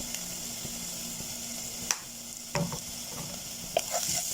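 Spices including coriander powder, cumin and black pepper are stirred into chicken cubes cooking in a pan. A steady low sizzle carries a few sharp scraping knocks from the utensil. The sound is close and faint, with no one speaking.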